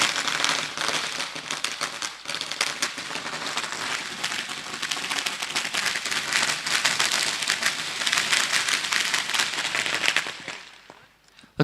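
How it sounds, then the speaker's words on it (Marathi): Dense, continuous crackling of firecrackers and fireworks bursts at a night welcome ceremony during a cricket tournament, rapid overlapping pops filling the air loudly for several seconds before fading out. "जोरदार फटाक्यांच्या आतिषबाजीमध्ये इथे स्वागत आपण करतोय."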